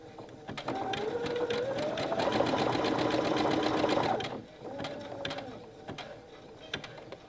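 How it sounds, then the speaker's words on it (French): Sewing machine stitching a line through knitted fabric to secure it before cutting, a steady close whirring run of about four seconds that stops, then a shorter second burst, with light mechanical clicks around it. "Ma machine galère pas trop à faire avancer mon tricot."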